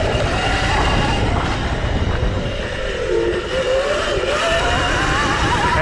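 Drill One EVO electric dirt bike ridden hard in its blue power map, a loud, continuous broadband rush of wind and motor whine with rising and falling pitch sweeps, close and steady throughout.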